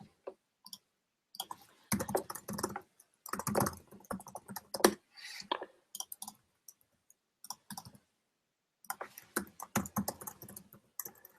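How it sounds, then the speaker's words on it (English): Rapid typing on a computer keyboard in bursts of clattering keystrokes, broken by short silent pauses, close and clear. "I am having trouble with the typing."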